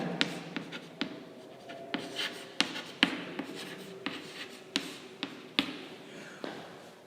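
Marker or chalk strokes scrape and tap across a board while code is written during a C programming class, a steady run of short, crisp scratches and knocks at close range with no talk.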